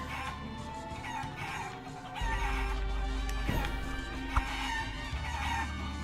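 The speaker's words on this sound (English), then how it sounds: "Can I talk to this chicken, maybe?" A chicken in the Guacamelee video game clucks and crows in short bursts over layered game music and ambience, with a low rumble entering midway and a couple of sharp hits.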